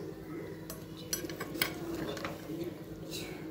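Veg pulao is stirred in a pressure cooker, a spoon scraping and clinking against the metal pot in a few soft, irregular strokes over a low background hum.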